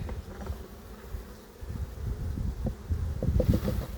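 Honey bees hum around an open hive during a colony inspection, a close, continuous low buzzing that swells and thickens toward the end.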